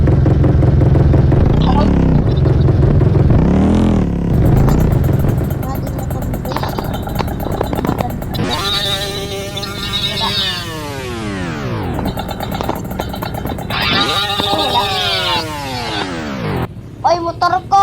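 A Honda Vario Techno scooter rides through Manila streets, its engine droning steadily with rising and falling revs and passing traffic sweeping by loudly, while people talk over the ride.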